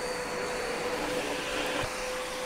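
A SkyVac Industrial 85 gutter vacuum system runs with no load on it, a loud steady roar with a high whine held throughout and no talking.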